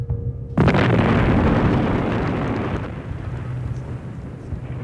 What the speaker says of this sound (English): Back at Dawson's Field, the hijackers blew up the airliners